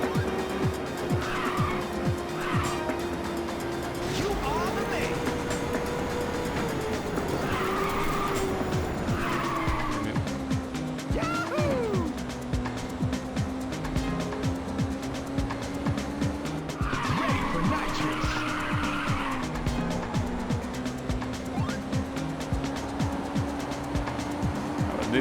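Race cars in the PSP game Ridge Racer drift with long tire squeals repeating every few seconds over a continuous engine whine that rises and falls, loud and close with no talk.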